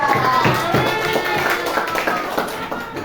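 A primary-school class clapping for a group, with quick uneven claps and excited children's voices mixed in over a short burst.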